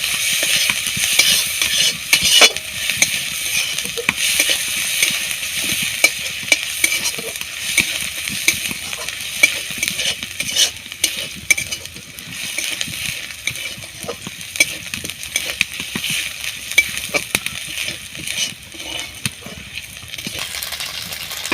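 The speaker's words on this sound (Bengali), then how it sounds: "তেলের মধ্যে আমি রসুন কুচি আর আদা কুচি দিয়ে ভালোভাবে লাল লাল করে ভেজে নেব।" Chopped garlic and ginger fry in hot oil while being stirred for an aloo chop filling, a steady loud crackling sizzle with constant scraping and clinking of the spoon against the pan, no talk.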